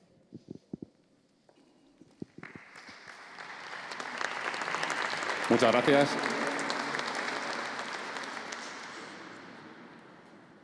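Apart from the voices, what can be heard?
audience applause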